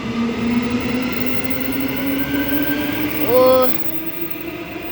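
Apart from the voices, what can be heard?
EMU electric train passing at Currambine station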